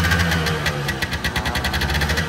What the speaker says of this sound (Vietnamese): Quý vị nghe tiếng bô rất là êm.